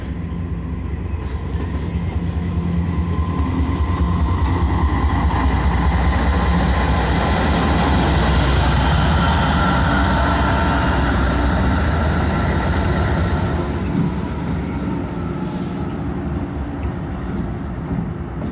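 A Norfolk Southern NS 83 freight train builds at the south end of the Binghamton terminal, with a loud, steady rumble and sustained tonal horn-like bands that run unbroken for the whole stretch, close by and without talk.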